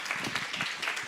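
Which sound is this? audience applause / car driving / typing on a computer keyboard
audience applause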